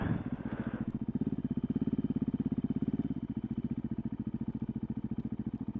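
A motorcycle engine in a rapid pulsing low thrum, rising in revs as the rider lifts into a wheelie, then settling to a steadier, slightly softer chug; no talking.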